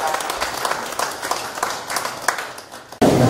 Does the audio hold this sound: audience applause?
yes